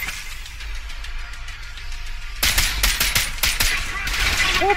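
Gunfire in the video game Trepang 2 erupts after a stretch of low ambient rumble: a rapid burst of loud, close shots and impacts, followed by a few more scattered blasts.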